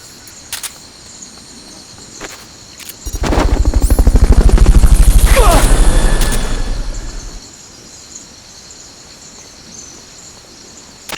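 A Fulton recovery helicopter in the video game Metal Gear Solid: Peace Walker, its rotor thumping loudly for a few seconds in a rapid rhythm, rising and fading, with sharp clicks before and after.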